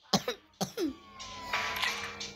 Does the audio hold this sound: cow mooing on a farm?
no